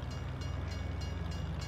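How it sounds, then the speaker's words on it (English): A train rolls past a road crossing in the Farming Simulator 22 video game, a steady low mechanical rumble with faint rhythmic clicking, fairly quiet and uninterrupted. "Oh, we got a train in the way."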